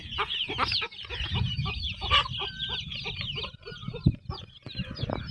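Several chickens cluck and squawk continuously nearby, a busy overlapping chorus of hens with no talking.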